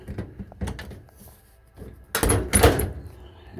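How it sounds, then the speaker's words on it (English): Door of a 2008 GE Profile gas dryer being lifted free of its hinge holes, giving a couple of soft clunks early, then two louder scraping thunks near the end, close and without talk. "I'm gonna lift up the actual door and then"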